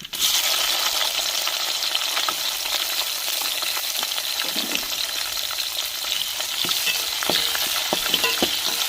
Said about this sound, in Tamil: எண்ணெய் சூடாயிருச்சுங்க கறி மசாலா பட்டை போட்டுக்கிறோம் நம்ம வெட்டி வச்ச வெங்காயத்தையும் சேர்த்துக்கிறோம்